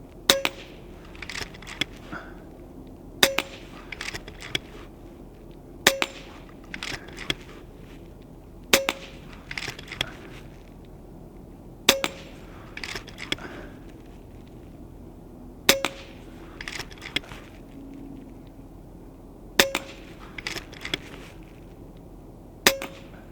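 A powerful airgun fires repeatedly at a steel know-your-limits target rack 25 yards downrange, each sharp shot followed by a metallic ping of pellet on plate, spaced a few seconds apart over a quiet outdoor background.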